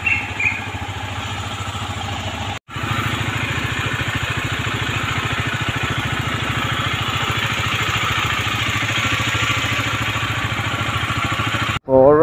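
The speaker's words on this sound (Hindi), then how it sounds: "ड्यूक का 250 को कूल स्टार्ट दे रहे हैं, बिकॉज बहुत दूर जाना है ना, तो उसका इंजन को थोड़ा फ्री होने देते हैं" KTM Duke 250 motorcycle idling on a cold-start warm-up before a long ride in Assam, a steady close engine putter with mechanical clatter, interrupted by two brief dropouts.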